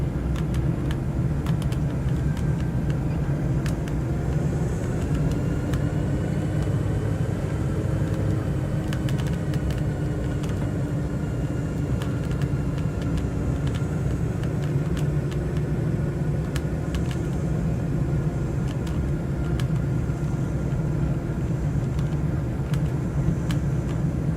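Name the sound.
airplane touching down on runway, from a VR flight simulator game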